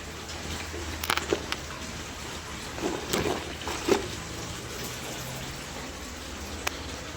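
Tap water running indoors at home during household chores, a steady, faint rushing hiss with a few brief clatters and knocks over it.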